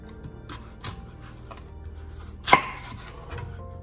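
A knife cuts hard fruit into big slices on a board for a fruit salad, giving a few quiet, spaced chops with one sharp, louder cut near the end.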